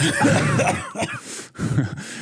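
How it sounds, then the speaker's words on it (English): A deliberate, forced cough over steady background noise, a couple of throaty bursts close to the listener. "So that's a fake cough."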